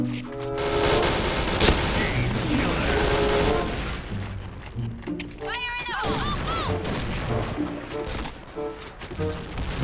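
Rapid bursts of gunfire in a shooting video game, with rattling volleys running close and loud through most of the stretch and game effects and a voice in the mix.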